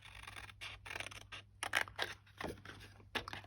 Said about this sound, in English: and then just give it a little cut out.